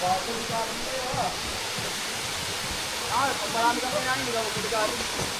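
Steady, broadband roar of the waterfall at Batlag Falls in Tanay, Rizal, heard near a riverside cottage, continuous throughout with people talking faintly underneath.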